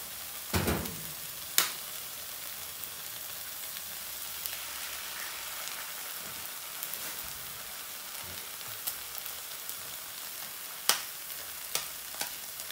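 Steady broadband sizzle of eggs frying in a pan, with a few sharp clicks and taps of utensils over the hiss.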